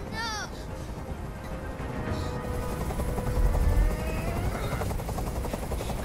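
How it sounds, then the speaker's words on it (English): A helicopter in the video game Detroit: Become Human keeps up a loud, continuous rotor thrum, with voices and scattered bursts of sound over it throughout. "I can't stand that noise anymore! Tell that helicopter to get out of here!"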